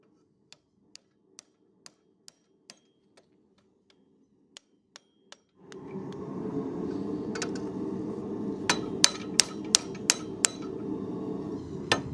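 Hammer blows on hot leaf spring steel as it is wrapped to forge a tool eye, a slow series of sharp metallic strikes, then a roaring forge-like background rises with louder, quicker ringing hits.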